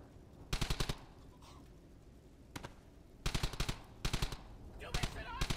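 Automatic weapons fire in bursts in a World War II shooter game, with several rapid volleys spaced across the scene and single sharp shots between them, loud and close over quieter background noise.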